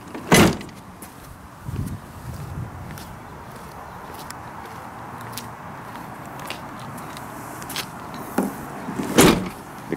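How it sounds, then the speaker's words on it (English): Doors of a 1981 DeLorean DMC-12 are opened and shut, giving a few sharp, close thumps and clunks spread across a quiet background with soft handling noises in between. "Doors work great too."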